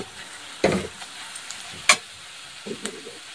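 Egg bhaji fries in a pan with a quiet, steady sizzle, broken by a few sharp scraping and stirring knocks at uneven intervals.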